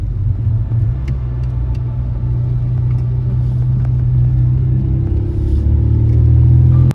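A Ford Escort car climbs the Applecross Pass in Scotland, its engine a steady low rumble heard from inside the cabin that swells slightly louder toward the end as it pulls uphill, with no talking.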